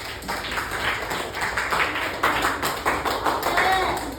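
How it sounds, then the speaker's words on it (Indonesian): Classroom of students clapping together after a peer-teaching coding lesson, a steady patter of many hands sustained close by for several seconds, with some murmuring voices mixed in. "Iya, tepuk tangan."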